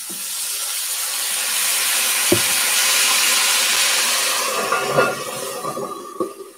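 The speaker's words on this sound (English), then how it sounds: "An easy way to do that is let's steam them carefully." Sausages steaming in a cast iron cauldron give off a steady broad hiss that swells through the middle, with a few soft clanks and taps of handling near the end and no talking.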